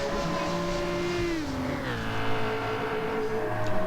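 Race cars in Gran Turismo 7 run in close company, including a BMW, with steady engine drones whose pitch rises and shifts as gears change, loud and continuous throughout with no talk.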